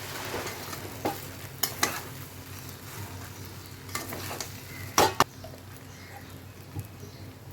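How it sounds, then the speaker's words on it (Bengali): Spicy semolina (suji) with sugar stirred in a pan: a spoon scrapes and knocks at scattered moments against a low, steady background, with no talking. "দিয়ে ভালো করে নাড়াচাড়া করব যাতে চিনিটা সবের সঙ্গে ভালো করে মিশে যায়"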